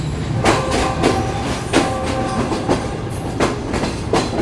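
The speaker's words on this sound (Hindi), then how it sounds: "ट्रेन हमारे इस वक्त अप्रोच बना रही है सम्मा सट्टा जंक्शन रेलवे स्टेशन पर" A passenger express train nears Samma Satta Junction railway station in Pakistan, with loud, steady rumble and regular clickety-clack of wheels over rail joints, heard close from on board.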